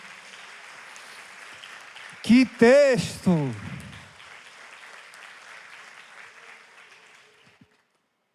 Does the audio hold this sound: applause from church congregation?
yes